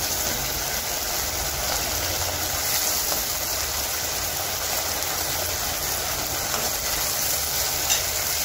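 Fried soya chunk pakodi sizzling steadily in a pan as soy sauce and red chilli sauce go in and the pieces are stirred, a loud continuous frying hiss with light scraping and no talking.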